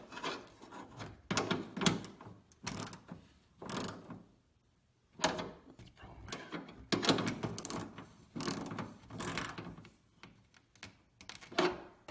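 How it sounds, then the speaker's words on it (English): A ratchet snugs the screws on the third brake light of a 2006–2013 Chevrolet Impala, giving close, crisp bursts of rapid clicking separated by short pauses, with no talk. "I will use the ratchet though, just to snug it up a little bit"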